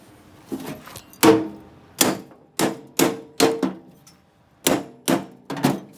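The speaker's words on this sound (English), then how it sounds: "Just have to hammer it in." A hammer strikes metal about a dozen times in uneven bursts, driving a part into place on a turbo Ninja 250 buggy, each a sharp, ringing clang up close, with brief pauses between groups of blows.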